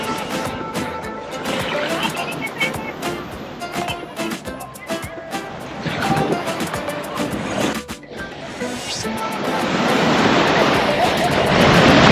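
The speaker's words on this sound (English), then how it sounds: "And the waves are very intense today." Intense, rough ocean waves roll in at Santa Marta, Colombia, a continuous roar of churning surf that swells noticeably louder toward the end.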